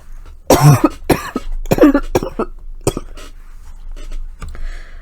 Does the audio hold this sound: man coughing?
yes